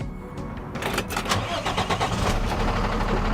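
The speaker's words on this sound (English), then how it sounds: "Now after cranking the tractor," A Pepsi tractor truck's engine cranks and catches, its starter whir giving way to a loud, rough rumble that settles toward idle, close and alone.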